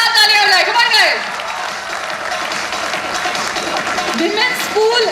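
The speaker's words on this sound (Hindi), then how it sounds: "एक बार जोरदार तालियां हो जाए" Crowd applause at an employees' sports and cultural event prize presentation, steady clapping from a large gathering beneath loud announcer talk and cheering.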